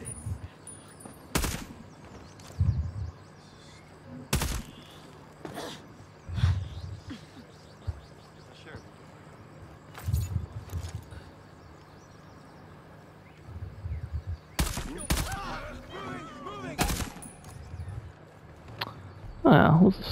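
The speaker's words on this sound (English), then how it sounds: "I'll take out the one closest to the wall first because he's going to hear the shot otherwise." Scattered gunshots in the Ghost Recon Breakpoint video game, sharp isolated reports spaced several seconds apart with a short burst near the end, over quiet game ambience with someone talking between shots.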